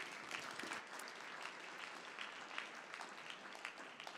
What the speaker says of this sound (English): Can we give our panelists another round of applause?